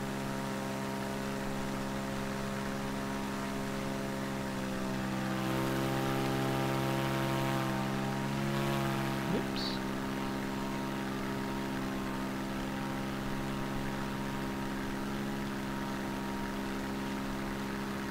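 Steady drone of a propeller plane engine in Microsoft Flight Simulator 2020, heard from outside the aircraft over Madagascar: a constant hum with a rich stack of harmonics, holding even and fairly loud throughout with only a slight swell midway.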